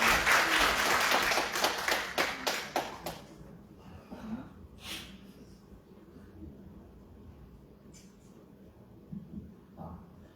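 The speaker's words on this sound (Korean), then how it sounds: "앞으로 나오신 박수로 한번 크게 부탁드립니다" A burst of audience clapping at a lecture event fills the first few seconds, then fades into a quiet room with scattered shuffling and breathing.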